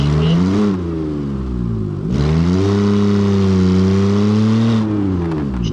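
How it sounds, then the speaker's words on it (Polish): A car engine in the game BeamNG.drive revs loudly and close, its pitch climbing and falling, dropping briefly before rising into a long, steady high-revving drone. "O, fajnie, fajnie silnik."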